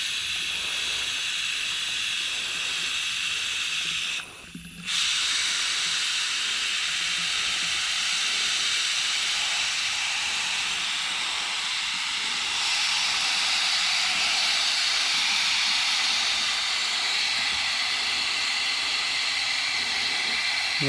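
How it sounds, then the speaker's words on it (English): Water from a tap runs steadily to rinse out a measuring container for a WORX 20V WG829 cordless sprayer, a continuous hissing rush with a short break near the start and a slightly fuller flow later on. "now I'm going to go ahead and rinse the measuring container I use."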